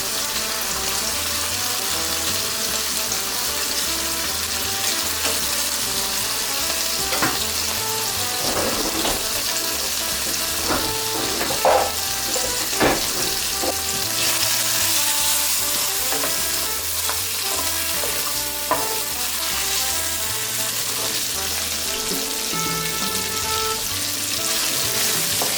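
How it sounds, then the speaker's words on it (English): Onions fry in a hot pan, a loud, steady sizzle with occasional stirring clicks and scrapes, continuing unbroken with no talking. "I do want to add a few onions, so these are just going to go into the mix."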